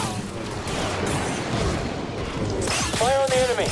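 Stormtrooper blaster fire in a Star Wars Jedi: Fallen Order battle, loud and continuous, with dense shooting and impacts throughout and a brief warbling electronic tone near the end.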